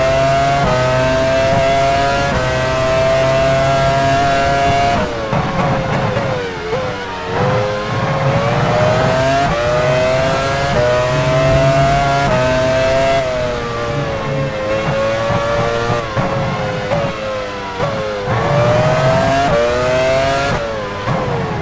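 A Formula 1 car in F1 Challenge 99-02 heads into the pit lane at Silverstone during the 2001 British Grand Prix. Its engine whines loud and continuous, with its pitch rising and falling through gear changes.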